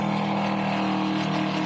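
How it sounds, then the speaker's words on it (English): Ford-powered Kilo race car engine at a historic racing event at Montjuïc in Spain, a steady loud rumbling drone with strong low harmonics, continuous and close throughout with no break. "You can hear that Ford engine in the Kilo really rumbling away"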